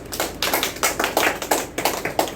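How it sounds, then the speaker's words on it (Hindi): Audience in a soft skills training session clapping together, a steady run of sharp, dense claps lasting a couple of seconds with no talk over it. "और तालियां"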